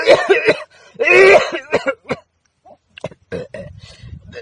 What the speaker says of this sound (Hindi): मोला खांसी हो गया